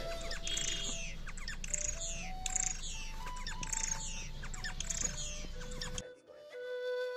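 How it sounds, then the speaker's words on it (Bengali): A male star finch calls repeatedly, a run of close, bright chirps and squawky notes for several seconds before the calling stops and only a faint tone remains. "মেল পাখিটি ডাকাডাকি করে এবং ম্যাটিং ড্যান্স করে"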